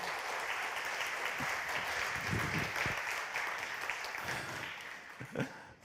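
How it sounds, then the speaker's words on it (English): Conference audience applauding a speaker at a tech talk: a steady, fairly distant wash of clapping from a crowd that holds for several seconds before thinning out. "Please, a round of applause for him."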